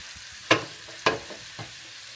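Honey-glazed salmon pieces are stirred while they fry in a pan: a soft, steady sizzle with several scraping strokes, two louder ones followed by two lighter ones.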